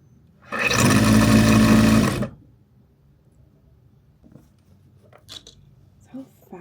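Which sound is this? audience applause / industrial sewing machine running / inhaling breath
industrial sewing machine running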